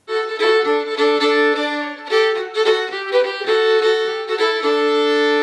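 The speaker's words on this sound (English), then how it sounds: "a way that you can play a duet with yourself on the fiddle" Bowed fiddle plays a tune in double stops, two strings sounding together in rich harmony, steady and up close with no talking.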